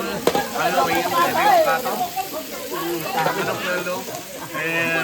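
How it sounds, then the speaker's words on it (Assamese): Pork frying in a pan at a Mising housewarming feast, a loud continuous sizzle and crackle mixed with stirring, under nearby chatter. "পৰ্ক মানে গাহৰি এগাদিন ধুনীয়াকৈ ভাজি আছে"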